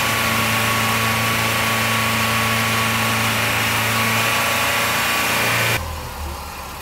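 Gasoline engine of a VW Gol idling steadily after a leak repair, a loud, close, even hum with a constant tone that cuts off abruptly near the end, leaving quieter background.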